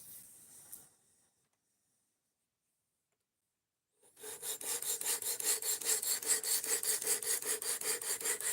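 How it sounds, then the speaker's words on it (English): A knife is sharpened with firm, hard pressure, giving a brief scrape, a pause of silence, then a fast run of regular back-and-forth rasping strokes, close and fairly loud. "We are indeed sharpening the knife."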